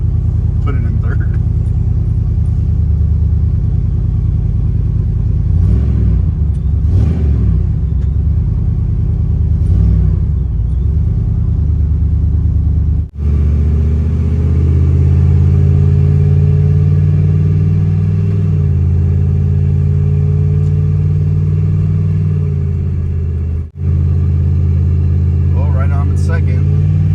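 Chevrolet Silverado fitted with a TH400 transmission and manual valve body, a loud, deep engine rumble inside the cab rising and shifting through gears over nearly half a minute, with people talking over it.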